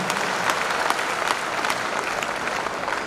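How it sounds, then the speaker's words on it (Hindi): A network marketing seminar audience applauds, a dense, steady wash of clapping from a crowd that holds at an even level from start to finish. "ताली बजा लीजिए, ये फाइनल है सर।"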